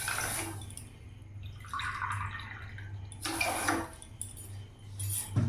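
Water is poured from a measuring cup into a pot for sugar syrup in a home kitchen, with bursts of splashing that come and go over a steady low hum.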